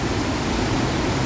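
Floodwater in a stream after a sudden heavy rain gives a short, loud, constant roar, close and unvarying, with no one talking.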